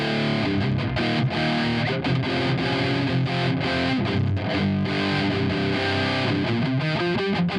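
Electric guitar through a Tube Screamer overdrive on a Valeton GP-200, with a thick, saturated tone, plays a steady riff, loud and continuous with no voices.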